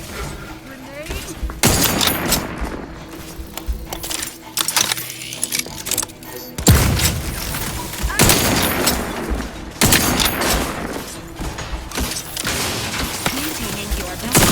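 Gunfire and grenade blasts in the video game The Outer Worlds 2: loud, sharp bursts recurring every couple of seconds amid rattling debris and combat clutter, with game voices speaking between the blasts.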